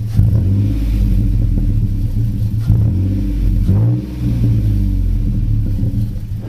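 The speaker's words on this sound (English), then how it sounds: "You want to rev? Let it," Nissan Xterra engine with a 6-speed manual revving close by, a loud low rumble with several throttle blips climbing and falling in pitch over a steady idle.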